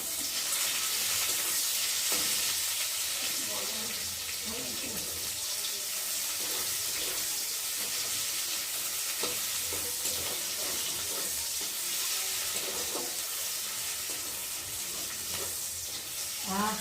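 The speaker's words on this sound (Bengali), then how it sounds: "রসুনটা একটু ভালো করে ভেজে নিই।" Steady, hissing sizzle of garlic and onion frying in a pan, continuous and fairly loud throughout with faint scraping of a spatula underneath.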